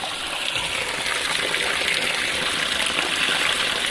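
Water gushes steadily out the front of a Plymouth NASCAR tribute car as its cooling system is flushed, a continuous close splashing rush with no pauses.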